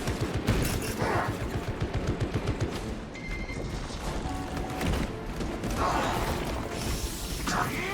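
Servo gun strike in Warhammer 40,000: Space Marine 2, dense rapid gunfire bursts with mechanical clatter and impacts, loud and continuous, with faint radio-like voices beneath.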